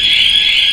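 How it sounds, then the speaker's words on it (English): A loud, steady, high-pitched electronic alarm tone sounds continuously inside a lift building in Ljubljana, Slovenia, close and unbroken. "that's a loud alarm"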